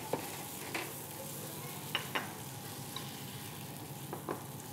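Green chilies sautéed in a pan for Medan-style tauco shrimp, a steady soft sizzle with a few scattered utensil scrapes and taps, moderately close, no talking.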